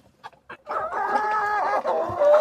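Thirteen-day-old Dalmatian Leghorn chicks cluck and peep loudly and close by in a hay-filled cage, a few short calls followed by a continuous run of overlapping chirping cries.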